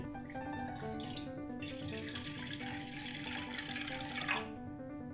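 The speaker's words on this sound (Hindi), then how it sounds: "पैन में मैं पानी ऐड करूँगी तकरीबन हाफ़ कप" Water runs steadily into a cooking pan, about half a cup for sugar syrup, a soft continuous trickle with faint background hum.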